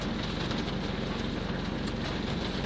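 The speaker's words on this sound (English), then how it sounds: "we are getting smashed by wind and big drops of rain, and the whole van is rocking" Wind and heavy raindrops pound a van as it rocks, a dense, steady roar of rain on the body with low buffeting rumble, loud and close, no voices.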